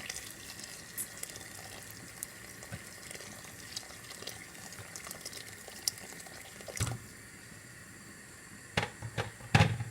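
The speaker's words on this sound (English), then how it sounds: "I'm gonna add some hot water to my pot, to my meat, so that it can boil now until it becomes tender." Hot water pours into a pot of meat for Guyanese pepper pot, a steady close splashing trickle with a few louder clinks of the pot toward the end, no talking.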